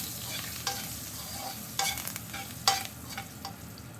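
Chillies, curry leaves and onions fry in a pan with a quiet sizzle, broken by a few sharp stirring scrapes and clanks for a Chettinad baby potato roast.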